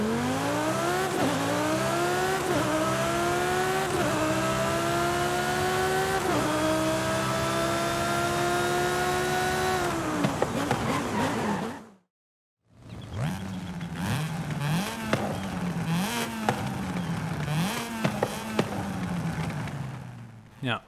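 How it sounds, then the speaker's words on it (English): The V12 of a Lamborghini Sesto Elemento in Forza Horizon 5 screams through a series of climbing revs and quick shifts, pauses briefly, then resumes with more hard, loud revving and a hint of tire squeal. "Next up, the iconic Sesto Elemento from Lamborghini."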